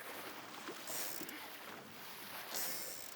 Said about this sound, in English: Just coming into a bit of a gust here.